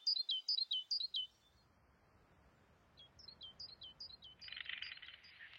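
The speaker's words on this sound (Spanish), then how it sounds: "Los pájaros anuncian la llegada de un nuevo día." Birds sing at dawn: a bright run of repeated high chirps, a short lull, then another trilling phrase with a brief buzzy note, clear and fairly close over quiet surroundings.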